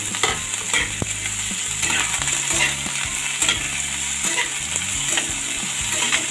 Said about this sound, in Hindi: और इसके बाद हम इसमें डालेंगे ये कद्दू, जिसको मैंने कट करके पहले से ही रखा हुआ है।